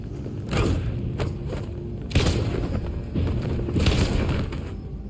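Gunshots ring out in the video game Detroit: Become Human, about three heavy booming blasts spaced apart with reverberant tails over a low background.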